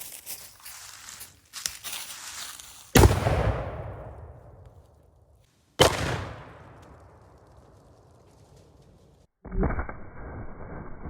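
A cannon loaded with gravel stones from a road fires at a watermelon outdoors, giving two loud booming blasts that roll off into long decaying echoes, followed by another sharp impact-like burst near the end.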